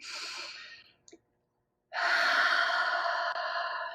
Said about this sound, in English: Deep breath in, deep, deep breath in.